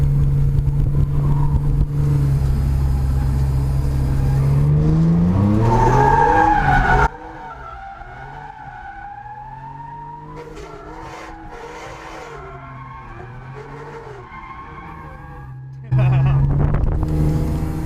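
A car drifting at a drift school, engine revving hard and tires squealing loudly, then the engine note dropping and rising through gear changes as it slides, close and loud, with a voice speaking partway through.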